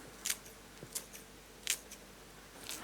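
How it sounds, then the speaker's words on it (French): Scissors snip fresh basil into tiny pieces for lamb meatballs, a few quiet, crisp cuts spaced irregularly about once every half second to second, close and soft against a faint room hiss. "avec les ciseaux on vient couper ça en tout petits morceaux"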